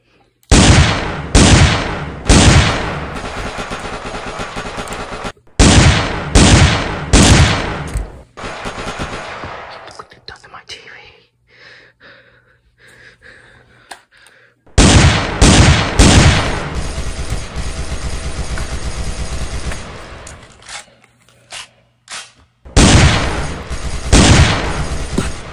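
Video game gunfire during an assault on a house: loud, rapid automatic bursts repeating in several volleys, with a quieter gap midway before heavy sustained fire resumes.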